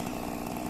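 A small chainsaw cutting down a tree in a garden orchard gives a steady, buzzing engine whine that runs loud and unbroken through the short moment, with no talking.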